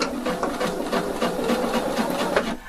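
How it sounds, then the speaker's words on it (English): A sewing machine runs double stitching along denim jeans, a steady, close, rapid mechanical whir with evenly repeating needle strokes, running alone throughout. "Now do double stitching, and first stitch is 2 millimeter from the edge"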